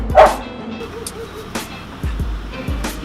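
A dog gives a few short barks on command during training, spaced apart, with a person's voice briefly heard nearby.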